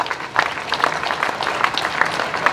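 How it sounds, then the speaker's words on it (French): An audience applauds a mezzo-soprano at a D-Day 80th anniversary ceremony in Paris, a moderate steady clapping with a few sharper individual claps standing out, no voices over it. "je vous demande d'applaudir encore notre mezzo-soprano"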